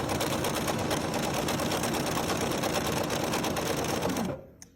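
A Bernina sewing machine stitches at a steady, fast, unbroken hum for about four seconds, then stops abruptly, leaving near silence.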